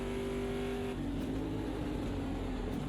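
Race car engine in Automobilista 2 running at steady high revs through a long sweeping right-hand corner, a loud continuous drone whose pitch drops slightly partway through, with no speech.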